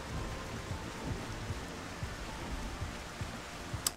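Rain and thunder in the video game Xenoblade Chronicles, a steady wash of falling rain with low rolling rumbles and soft periodic thuds, continuous and even throughout without speech.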